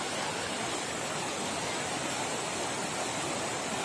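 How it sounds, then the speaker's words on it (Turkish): A babbling mountain stream flows beside a campsite and picnic area at Uzungöl in Çaykara, Trabzon, giving a steady, close, broadband rush of water with no pauses and no voices. "şırıl şırıl deresiyle burası da böyle"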